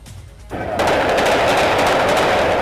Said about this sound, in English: That dramatic sound of gunfire appears to come from a young man or teenager aiming and firing a gun